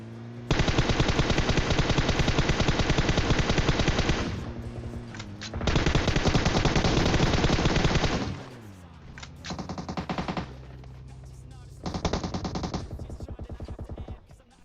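Automatic gunfire in the battle royale game PUBG Mobile comes in long, rapid sustained bursts separated by short gaps, loud and close, with later bursts choppier and mixed with game effects.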